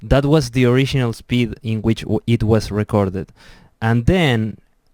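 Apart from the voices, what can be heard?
No distinct noise like a dog, phone or traffic.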